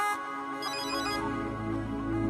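A mobile phone ringtone plays, a faint melodic electronic tune ringing steadily for a couple of seconds with no talk over it.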